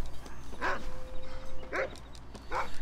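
A dog in the Red Dead Redemption video game barks three times at roughly one-second intervals, fairly close and clear over a steady low ambient background.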